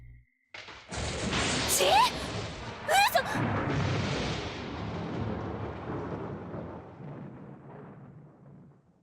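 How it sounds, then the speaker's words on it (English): A roaring thunderclap from the video game Corpse Party: Book of Shadows booms loudly, then rumbles and slowly fades over several seconds. "There was a flash of lightning almost immediately, joined by a roaring thunderclap."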